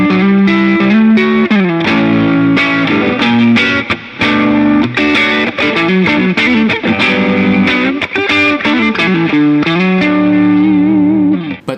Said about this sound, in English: If you need just a little bit of drive, then you get an overdrive pedal like this.